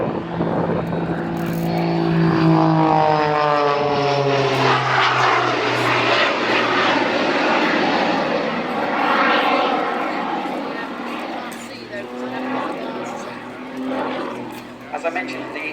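An aerobatic propeller plane fitted with jet engines performs at the IWM Duxford airshow, its engine droning loudly and shifting in pitch as it passes, with a voice talking over the roar throughout.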